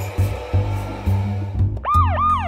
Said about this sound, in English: We've got the siren,